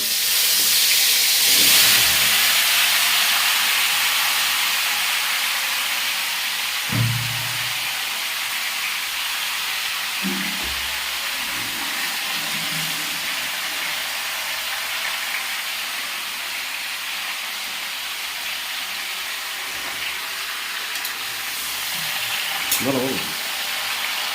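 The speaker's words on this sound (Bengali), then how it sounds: "এরপরে আমরা জল বেরিয়ে যাওয়া আমটা কড়াইয়ের মধ্যে ঢেলে দিচ্ছি" Drained mango pieces poured into a hot kadai over a tempering of phoron spices, giving a steady, close sizzling hiss that runs throughout, with a few soft low knocks along the way.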